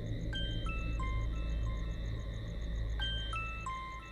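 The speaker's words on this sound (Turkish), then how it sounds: "Telefon çalıyor." A repeating electronic ringtone melody with bright tonal chimes, sounding twice over a steady low rumble, fairly clear and close.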